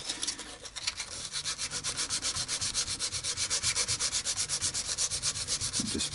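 Steady rhythmic sanding strokes rub back and forth on a Baby Taylor guitar headstock, taking excess lacquer off the wood. The strokes come close and even, a dense brisk scratching that keeps going with no voices.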